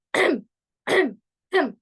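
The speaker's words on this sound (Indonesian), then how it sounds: "kita berdehem 3 kali" Three throat clears in quick succession, each a short gruff rasp separated by brief silences, close and clear with no talking.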